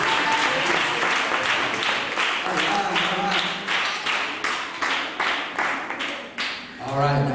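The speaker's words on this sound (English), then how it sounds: "let's give her a hand clap for helping me out" A crowd applauds warmly, hand claps blending into a dense, steady patter that holds for several seconds before tapering, with a brief voice surfacing near the end.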